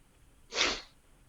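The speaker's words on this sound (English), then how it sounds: "I'm gonna sneeze." A single sharp, close sneeze from a person, bursting out suddenly and fading within half a second against near silence.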